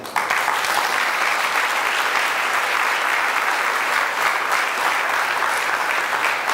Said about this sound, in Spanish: Yo le dieron fuerte aplauso al Señor